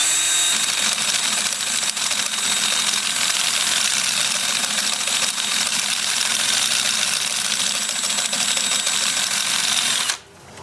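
A 400-grit sanding disc works against a sassafras turning spinning on a wood lathe, giving a loud, steady broadband whir that holds for about ten seconds before cutting off abruptly near the end.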